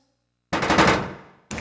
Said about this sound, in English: Oh my god, sounds like gunshots.